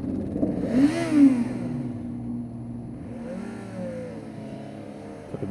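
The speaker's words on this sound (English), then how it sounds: "Can feel that inline 4 engine, it's very nice." A Yamaha FZ6R with an inline-four engine accelerating, its rising revs sweeping up and settling into a steady drone, close and moderately loud, with wind noise and no talk.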